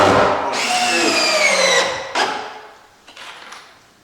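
A power drill drives extra screws into the wood framing around a Buck model 74ZC zero-clearance wood stove insert opening, with a loud sustained whine that cuts off and is followed by a few fainter short bursts.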